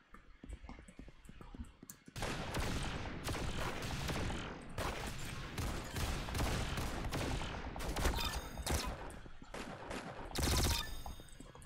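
Rapid gunfire in the Roblox shooter game, with dense bursts of shots and mechanical clicks repeating loudly over several seconds after a quieter start.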